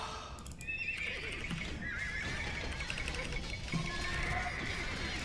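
Horses neigh and whinny in the medieval strategy game Age of Empires 2: Definitive Edition amid battle, several shrill whinnies rising over a dense clatter of hooves and game noise.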